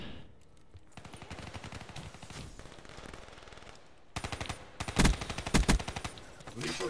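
Automatic KN rifle fire in the Black Ops 3 video game, starting with steady rapid bursts and then growing louder and denser near the end, with no talk over it.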